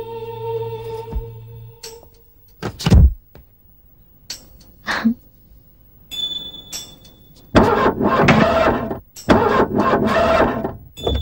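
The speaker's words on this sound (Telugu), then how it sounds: "సడన్ గా కార్ స్టార్ట్ అవ్వలేదండి" A car engine cranks but fails to start in a film scene: two long, loud, rough bursts of starter grinding follow a few scattered knocks and rustles, with no speech.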